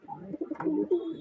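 A pigeon coos close by in a short, soft, throaty burst of low rolling notes.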